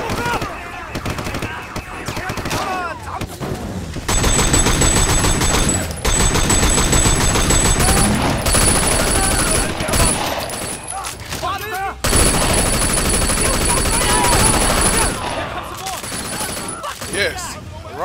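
Rifle fire in Sleeping Dogs rattles loud and close in long rapid bursts, broken by short pauses, with voices over the shooting.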